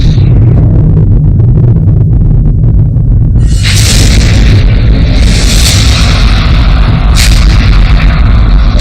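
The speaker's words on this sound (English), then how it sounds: "There would have been this gigantic fireball with huge tornado force winds." A huge airburst explosion from a meteorite, with a deep continuous rumble giving way to a loud roaring blast and crackling bursts that keep surging, close and overwhelming, with no voices.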